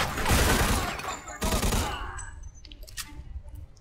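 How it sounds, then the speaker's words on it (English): Machine gun fire from the video game Mafia 2, a dense, loud burst of rapid shots in the first two seconds that tails off into scattered, fainter pops and debris. "This machine gun is real badass."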